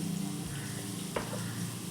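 Chopped onions with a pinch of salt frying in hot coconut oil for a Kerala-style chickpea curry, a steady close sizzle with one brief stir or clink partway through.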